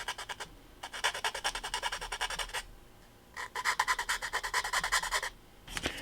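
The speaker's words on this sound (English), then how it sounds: "We'll file the inside of the windows." A small file rasps across the inside edges of HO scale model windows in three bursts of quick, even back-and-forth strokes, close and fairly loud, with short pauses between bursts.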